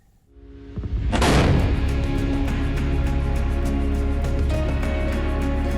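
A single loud rifle shot with a 200-grain AccuBond load, fired at a wild boar, booms after a quiet lead-in, then rings out in a long, slowly fading rumble outdoors.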